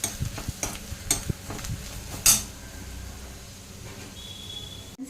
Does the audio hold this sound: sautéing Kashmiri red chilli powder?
yes